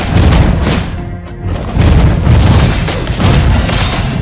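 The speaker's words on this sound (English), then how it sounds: "You destroyed a turret" Booming explosion as a turret is destroyed in the mobile game Mobile Legends, with dense low rumbling thuds repeating through a loud, busy battle mix that has no talk.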